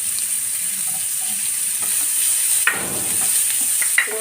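Onions and green chilli sauté in hot oil in a pan with a steady close sizzle, broken by a few clacks and scrapes from a stirring spatula. There is no talking.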